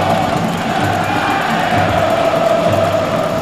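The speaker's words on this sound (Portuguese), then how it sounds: "O torcedor fazendo muito barulho aqui, Adriano, é hoje." Crowd at a basketball arena during the fifth game of the Brazilian NBB final between Sesi Franca and São Paulo, cheering and roaring loudly and continuously, with whoops rising out of the dense, sustained noise.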